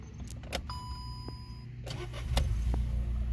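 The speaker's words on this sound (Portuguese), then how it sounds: "O carro pega de estalo." A 2016 Volkswagen Up with the 1.0 TSI engine and 84,000 km starts up: a key jingle and short electrical whine, then the engine catches quickly and settles into a steady idle.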